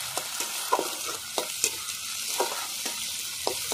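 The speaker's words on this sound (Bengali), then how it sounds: "ভালো করে আমি কষিয়ে নেব" Chili paste, garlic paste and chili powder frying in a pan for a small-fish curry, a continuous sizzle punctuated by regular, close spatula strokes at a steady stirring rhythm.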